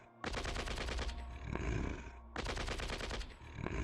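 Long bursts of machine gun fire during an attack in the strategy game Shadow Empire, two sustained rattling volleys separated by a brief pause, loud and close with rapid evenly spaced shots.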